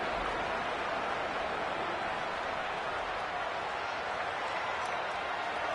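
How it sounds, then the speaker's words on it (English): A football stadium crowd cheers and applauds during a game, a steady, dense roar of clapping and shouting that fills the whole clip at an even, moderate level. "the crowd really getting into it"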